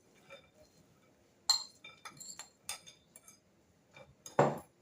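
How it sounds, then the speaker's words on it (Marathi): Peanuts tumble into a bowl of gram flour and spice mix, giving a scatter of sharp, clinking taps against the bowl in irregular bursts, close and clear with no talking. "हे शेंगदाणे ह्यामध्ये आपल्याला घालायचे आहेत"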